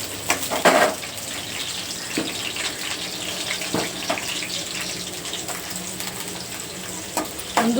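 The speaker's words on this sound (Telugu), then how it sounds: "నేను ముందుగా కట్ చేసి పెట్టుకున్న ఆనియన్స్ ఉన్నాయి కదా ఇవి ఇప్పుడు ఆయిల్లో వేసేసుకుంటున్నాను అలాగే పచ్చిమిర్చి కూడా" Onions and green chillies frying in hot oil for a crab curry, a steady broadband sizzle with scattered crackles and a few sharper pops, fairly close and alone without speech.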